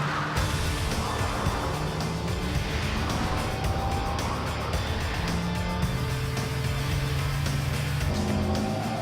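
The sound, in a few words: Acura TLX car driving on a test track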